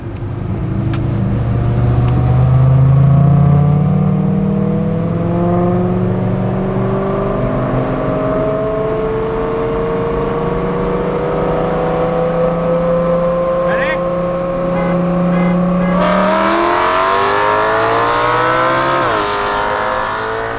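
A tuned BMW E9X M3 with an Alpine Motorsport stage 2 tune, heard from inside the cabin as it rolls in second gear, its engine droning loud and close with a rising pitch and a shift partway through.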